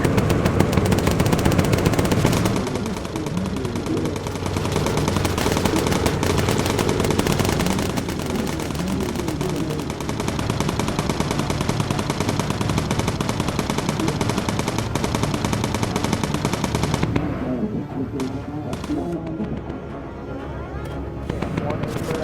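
Bomber gunners in Bomber Crew firing defensive machine guns: long, loud, sustained rattling bursts across most of the span, thinning near the end, with a voice talking over them.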